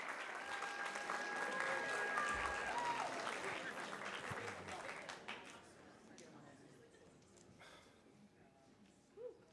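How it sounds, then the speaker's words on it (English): Audience at a Moth StorySLAM storytelling night applauds to welcome a storyteller to the stage: dense, loud clapping that holds for several seconds, then thins and fades to a quiet room. "that applause going as we welcome Jason to the stage"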